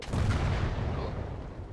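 A single loud boom from turrets firing on enemy artillery in the Gates of Hell: Ostfront war game is heard close up, followed by a rumbling tail that slowly fades.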